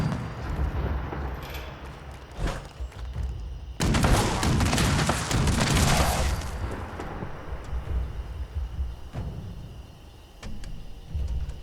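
Gunfire in the video game Fallout 76 comes as sharp bursts and a dense rattling volley in the middle, set against game ambience and engine-like rumble, loud and close.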